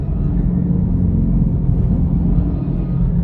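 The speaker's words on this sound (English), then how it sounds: "let me downshift. It just sounds so bad." A Chevrolet Camaro SS with a failing transmission downshifts, giving a loud, steady, close engine drone and low rumble that holds throughout with no one speaking.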